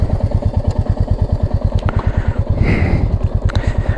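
A Royal Enfield Meteor motorcycle engine thumps in a fast, steady, loud pulse at close range, with brief clicks and clatter as the rider works the gears.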